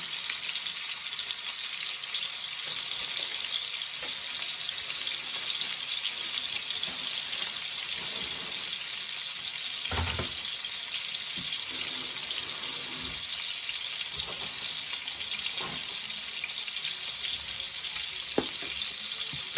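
Pork chops frying in a hot pan give off a steady, close sizzle that never lets up, with a few soft clatters and splashes breaking through now and then.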